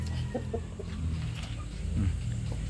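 Chickens clucking in short bursts, several birds close by, with a low background rumble underneath.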